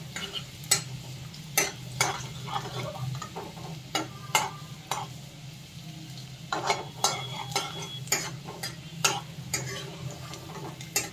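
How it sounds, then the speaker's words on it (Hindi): Garlic frying in oil in a home kitchen pan, with a steady low sizzle under repeated sharp scrapes and clicks as a spoon stirs it, close and clear. "तो ये लहसुन डाल देती हूँ पहले मैं, तो चला लूंगी थोड़ी देर।"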